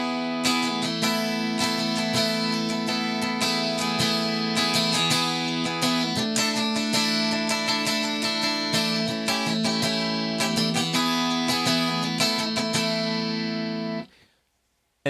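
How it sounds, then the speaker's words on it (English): A Stratocaster in Nashville tuning gives a bright, jangly twelve-string-like shimmer, strummed rhythmically in repeated chord patterns for about fourteen seconds before stopping abruptly. "So if you can imagine a 12-string guitar, okay?"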